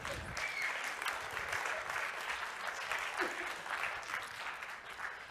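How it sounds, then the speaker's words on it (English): An audience in a Helsinki conference hall applauds volunteers with a steady, even wash of clapping that stays fairly soft and distant throughout. "Can you applaud our volunteers?"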